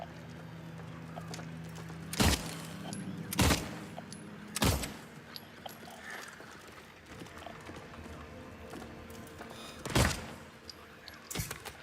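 Several sharp, separated gunshots from a gun in the Silent Hill 2 Remake video game, spaced irregularly with long gaps between, over a faint ambient game background.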